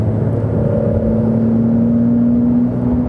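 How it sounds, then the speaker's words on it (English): Porsche 911 Carrera of the 992 generation, its engine giving a steady, loud low roar with a rising droning tone under light throttle, heard continuously from inside the car with no talking. "As soon as I'm just normally on the throttle, you hear some roaring, definitely."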